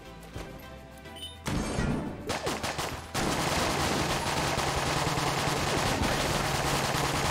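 Rapid gunfire in the top-down shooter Enter the Gungeon, a few scattered shots giving way to a dense, continuous hail of bullets and impacts that stays loud to the end.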